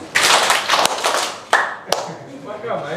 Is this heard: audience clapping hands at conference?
yes